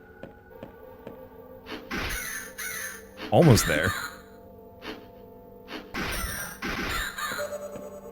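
Crows caw in the Resident Evil Mystery Dungeon roguelite, harsh calls rising over game effects and thuds as someone talks over the action.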